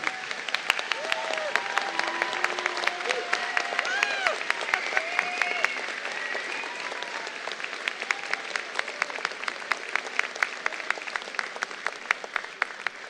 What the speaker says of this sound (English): Can all the supporters in the audience, friends, families, and everyone please stand up and give these amazing grads a round of applause